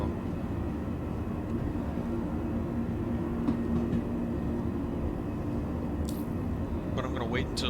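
Transit capsule in the Star Citizen game pulling into a station, a steady low rumbling rail-like hum throughout with a few brief higher clicks and chimes near the end, no talking.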